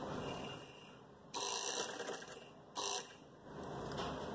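A sewing machine stitches elastic onto trousers in two short bursts of running, each about a second long, quiet and close against a faint room background.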